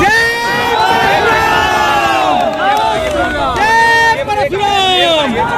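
Large crowd at Trikoniya Park, a loud, dense babble of many voices shouting and calling out together, close and continuous, with some rising cheers.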